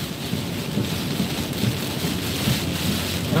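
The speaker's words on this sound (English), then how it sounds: "there's a lot of heavy rain like this" Heavy rain from Tropical Storm Michael pours steadily on a moving car, a dense broadband wash with low rumbling underneath, continuous and loud throughout.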